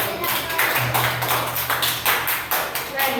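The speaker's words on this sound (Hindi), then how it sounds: "वेरी गुड, वेरी गुड, तालियां बजाओ।" Children clapping their hands in a classroom, a quick run of sharp, close claps in a steady rhythm during a Diwali lesson activity.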